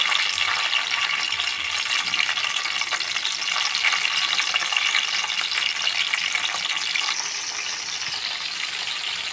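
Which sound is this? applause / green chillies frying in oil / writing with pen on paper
green chillies frying in oil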